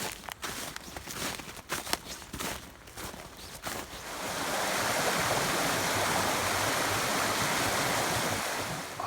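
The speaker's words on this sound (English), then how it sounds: "There's a lot of water coming through the brook at the moment." High water rushes through a swollen brook, a steady broadband roar that builds and holds loud and constant after some earlier rustling and handling noise nearby.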